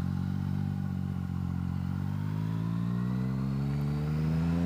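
A Yamaha MT09SP motorcycle engine runs steadily close by, its even tone rising gently as the revs climb toward the end.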